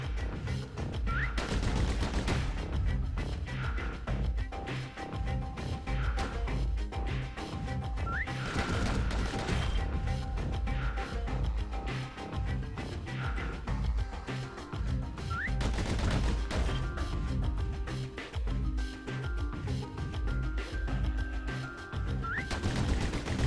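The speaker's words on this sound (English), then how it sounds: "pistols could spit out rounds just as quick as you could pull the trigger" Rapid pistol fire in the video game Bastion, dense bursts of quick shots running nonstop over layered game music and effects, loud and close throughout with no talk.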